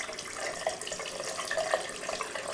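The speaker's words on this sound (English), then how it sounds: "I'm going to run it under cold water" Cold water runs from a tap over the leg of a Godzilla figure, a steady close splashing rush with no talk.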